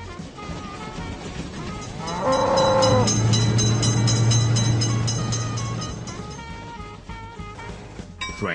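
A game train in Railroad Crossing sounds its horn briefly, then rumbles loudly past the crossing for several seconds before trailing off under steady background music.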